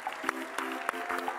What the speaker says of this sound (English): Keep clapping for Jace, come on.